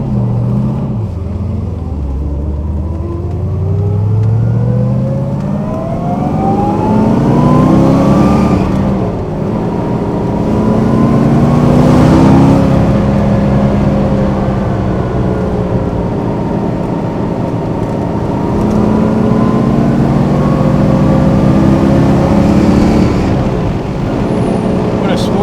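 A 1969 Chevrolet Corvette L88 engine cruising at steady revs on country roads on bias-ply tires, a continuous loud rumbling drone with rising and falling pitch as it shifts and accelerates, close and sustained throughout.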